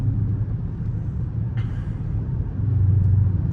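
A 2022 Dodge Charger RT V8 rumbling low and steady from inside the cabin, a continuous deep drone that swells slightly toward the end, with no talking.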